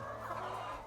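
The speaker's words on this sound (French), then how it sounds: "Ici, Julio Miguel élève des poules pour leurs œufs." Chickens kept for eggs on a farm in Cuanza Sul, Angola, clucking softly in a low, busy murmur, faint and continuous for a brief moment with no talking.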